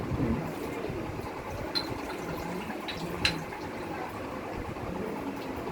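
Alkaline water at the 11.5 setting runs from the outlet of a Kangen water machine during a home installation, a steady broadband gush of liquid with a couple of brief clinks, continuous and close for several seconds.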